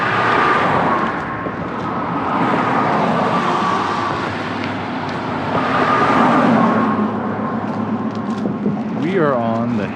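Cars pass by on a road near the Henry's Fork river in Island Park, Idaho, a steady swelling rumble of several vehicles going by in waves, with a brief voice at the end.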